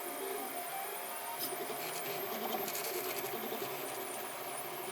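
A 3D printer prints a rocket nose cone from an SD card, giving a quiet, steady whirring with soft motor tones close by and no talk.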